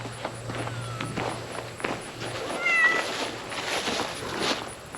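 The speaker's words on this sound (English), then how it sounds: "Our crazy ass shop cat." A stray shop cat in a workshop gives a few scattered meows close by, with soft shuffling movement and low background hum around it.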